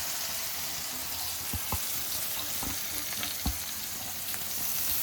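Stuffed okra (bharela bhinda) sizzles steadily in a generous amount of hot oil, an even close hiss broken by occasional sharp taps and knocks as the pieces settle in the pan, with no talking.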